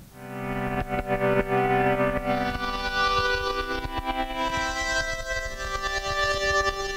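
A noisy, distorted synth pad made from a tea kettle sample swells with dense sustained chords that shift partway through, carrying clicks, pops and an echoing, effected texture; loud and steady throughout, with no voices.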